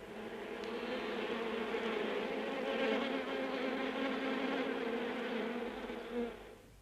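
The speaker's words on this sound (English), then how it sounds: "Brother Adam's super bees begin the final harvest of the year amid the honey fields of Dartmoor" Honey bees buzz steadily at hives set out amid the honey fields of Dartmoor during the year's final harvest, a dense, continuous drone that swells slightly and then fades near the end.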